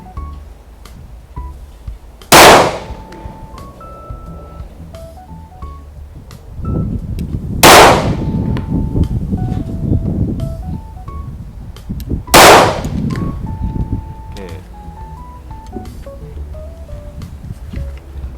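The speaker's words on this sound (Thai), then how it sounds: "ตอนนี้นะครับเรากำลังจะยิง HKBP9 ด้วยลูก FMJ นะครับสามนัด" An HK VP9 pistol firing FMJ rounds at a range: three loud, sharp single gunshots spaced about five seconds apart, with muffled background noise and electronic beeps between shots.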